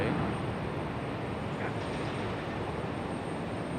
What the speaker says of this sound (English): There's our CRJ.